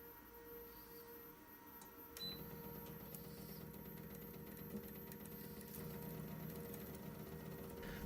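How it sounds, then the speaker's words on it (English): A modified CNC transformer winding machine winds fine wire onto a small bobbin for a vintage ribbon microphone transformer, giving a faint, steady mechanical whir and hum with occasional light clicks. "The CNC transformer winding machine has had a few modifications to correctly handle such a small bobbin"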